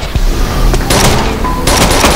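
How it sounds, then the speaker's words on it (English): Gunfire in the tactical shooter Rainbow Six Vegas 2, loud bursts of rapid shots in two clusters with a steady, harsh background of battle noise. "I hear gunfire downstairs, like there's warriors"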